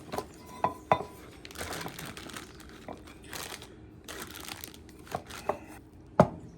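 Plastic piping bag being loaded with smoked deviled egg filling, giving bursts of close crinkling and rustling plastic interspersed with sharp clicks and taps from a spoon or bowl.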